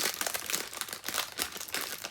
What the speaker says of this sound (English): the painting comes in a plastic bag. Okay, so let's open it up